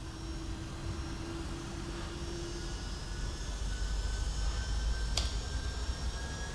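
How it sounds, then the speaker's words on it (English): A Boeing 757-200 spools up for takeoff from Munich in the X-Plane 11 flight simulator, a steady broadband engine roar that builds slightly, with a brief sharp click partway through. "we've been cleared for takeoff by tower. So let's go ahead and depart Munich."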